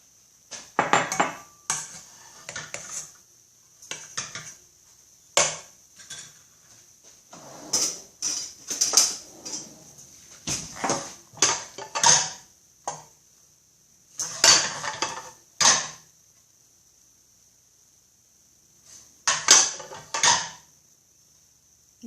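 Parsi malido is scooped from a cooking pot into a serving bowl with repeated clinks, scrapes and knocks of a spoon against metal and crockery, in bursts separated by brief pauses, over a steady high-pitched background whine.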